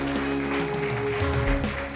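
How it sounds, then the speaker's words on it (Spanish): A church congregation applauding after a sermon, a brief stretch of clapping mixed with sustained music tones and faint background voices. "Denle ese fuerte aplauso a papá Dios."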